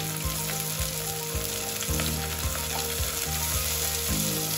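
Hyderabadi dum biryani sizzles and fries in a pot, a steady crackling hiss with a low rhythmic clicking pulse repeating about every half second underneath, moderately quiet and without speech.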